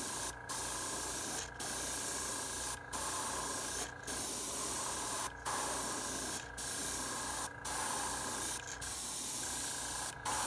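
An airbrush sprays pearl paint onto a fishing lure in short, steady bursts of hiss, about eight evenly spaced pulses separated by brief breaks, close and moderately quiet, with a faint constant tone underneath.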